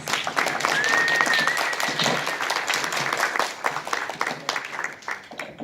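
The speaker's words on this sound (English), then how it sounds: "Let's give our contestants a round of applause" An audience at the Imagine Cup semifinals claps for the contestants, a sustained, fairly full round of applause with a voice faintly present beneath it.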